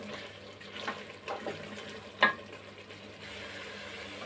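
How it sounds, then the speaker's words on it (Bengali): Beef curry frying down in a pan, a steady soft sizzle and bubbling with a few louder spatters and stirring clinks, no talking. "সুন্দর করে কষাই নিচ্ছি"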